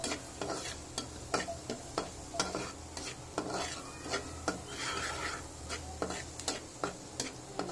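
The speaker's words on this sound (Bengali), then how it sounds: "এবার এটাকে একটু নেড়ে চেড়ে নিব ঠিক এভাবে করে হালকা" Red amaranth greens frying in a pan as a spatula stirs them, giving repeated scraping strokes in a steady rhythm over a continuous light sizzle, close and moderately quiet.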